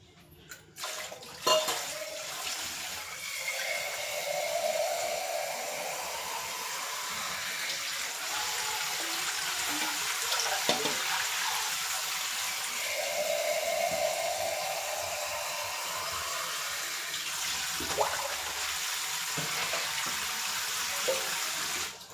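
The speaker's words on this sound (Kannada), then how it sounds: "ಇವಾಗ ನಾನು ಅಳತೆಗೆ ನೀರು ಇಕ್ಕೊಳ್ತಾ ಇದ್ದೀನಿ." Water pours steadily into a pot for a long stretch, measured out for cooking vegetable pulao, a continuous hollow gushing that briefly pauses and resumes, with no talking.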